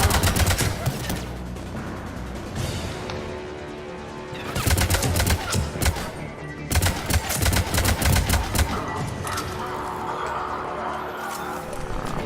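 Rapid, dense gunfire in Mass Effect 3 combat, bursts of loud shots and impacts in clusters over a steady game soundscape, with a voice speaking over it.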